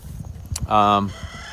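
Bielefelder chickens on a farm, kept near young pigs, give soft scattered clucks followed by one short, close, loud crow in the middle.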